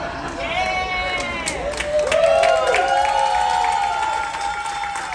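A cruise ship audience claps and cheers in a large room, a sustained wash of applause under excited voices and whoops, loud and fairly near throughout.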